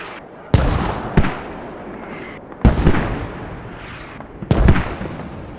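Mortar fire in the Squad video game on the Kohat map: three loud, sharp booms about two seconds apart, each with a rumbling tail, over a steady background of distant battle noise.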